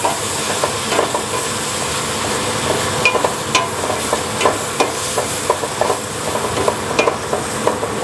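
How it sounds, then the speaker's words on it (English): Ground beef sizzles loudly in a hot pan for Texas red chili, a continuous close frying hiss broken by regular scraping taps of a spoon stirring the meat. "now we're just going to keep cooking it until it's fully cooked all the way through, and we cook off all the moisture"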